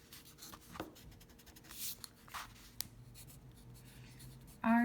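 A pencil moves across paper as a story is written by hand. Faint, soft scratching strokes come in short bursts over a quiet room hum, close by.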